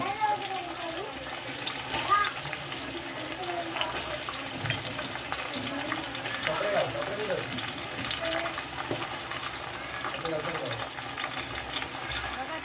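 Onion, green chilli and tomato for chicken pulao sizzle continuously in a pan while a person talks over the cooking noise.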